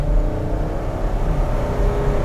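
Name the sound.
Ford Excursion SUV engine at full throttle, accelerating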